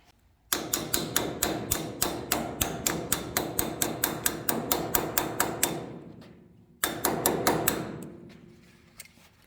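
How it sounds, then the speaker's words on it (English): A dust cap is tapped onto a utility trailer wheel hub, a fast, even run of about twenty sharp metallic hammer strikes, a short pause, then a few more blows, close and clear. "then you put your dust cap on"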